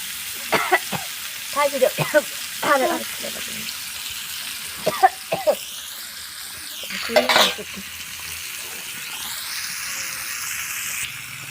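Rohu fish pieces fry in a pan over medium heat, a steady soft sizzle running throughout while a voice talks in short bursts over it and utensils clink now and then.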